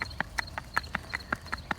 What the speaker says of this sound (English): He's a little mini horse.